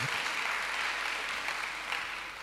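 A church congregation applauding during a French-language Sunday service, a steady wash of many hands clapping at moderate distance, sustained and fairly even, tapering slightly at the end.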